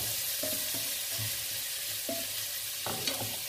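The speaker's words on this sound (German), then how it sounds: "Lassen den auch kurz anbraten" Quiet sizzling as rice fries in a pot, broken by a few scraping stirs of a spoon, steady and low in volume.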